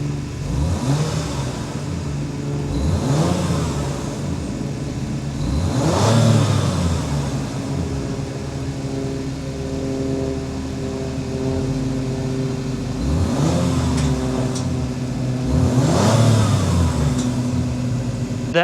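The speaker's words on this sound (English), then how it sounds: "Let's start this bad boy so you can hear that exhaust note." A 2023 Acura MDX Type S Advance engine runs with its exhaust note, revving repeatedly in rising and falling surges over a steady idle, loud and close, with no talking.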